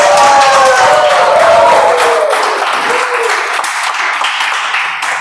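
A meeting audience breaks into loud, full applause that starts strong with a brief vocal cheer on top, then tapers gradually as the clapping thins out.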